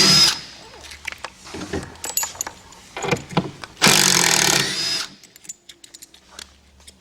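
A power drill backs out the screws holding the shipping braces on a Harvest Saver, whirring in short close bursts separated by brief pauses and handling clatter.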